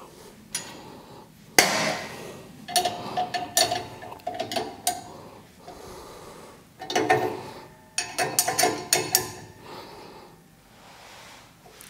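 A table saw's riving knife is adjusted and tightened, giving a series of close metallic clicks, ratcheting turns and knocks in uneven bursts with short pauses, no talking.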